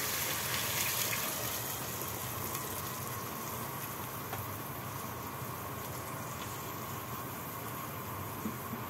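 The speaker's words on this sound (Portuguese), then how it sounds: "Agora vamos colocar a água." Water gushes steadily into a pot of sautéed beans, a loud continuous close-up pour lasting the whole stretch, with no talking.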